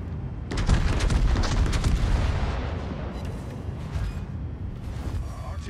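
Shells hit and explode in a World of Warships naval battle in which the USS Maine battleship takes fire. Dense, rumbling booms and blasts overlap in a continuous loud barrage that eases slightly toward the end.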